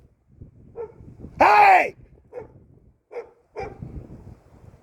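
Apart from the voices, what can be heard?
dog barking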